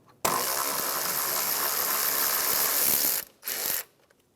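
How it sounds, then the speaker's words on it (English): A ratchet with a 10 mm socket backs out the AC line bolt on an Acura MDX, giving a loud, steady run of close clicking for about three seconds, then a short second burst after a pause. "just back out the bolt for the AC line"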